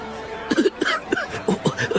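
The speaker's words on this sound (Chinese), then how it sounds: "我咳嗽，一直断断续续" Several short, harsh coughs in quick succession, close and fairly loud, with a brief pause midway through the burst.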